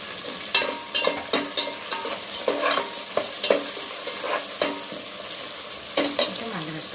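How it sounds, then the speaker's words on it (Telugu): Tomatoes are added to a pan and stirred for vegetable biryani. A close, crackling fry sounds throughout, with frequent spoon scrapes and taps against the pan, and no voices. "టమాటాలు వేసేద్దామండి."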